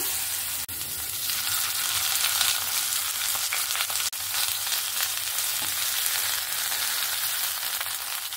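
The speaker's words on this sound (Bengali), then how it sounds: "পাতুরিগুলোকে ভেজে নেওয়ার জন্য আমি একটা ফ্রাই প্যান বসিয়ে দিয়েছি আর সামান্য একটু তেল দিয়েছি" Shrimp patties wrapped in bottle gourd leaves fry in a little hot oil in a frying pan, a loud, steady close sizzle with a couple of brief dips.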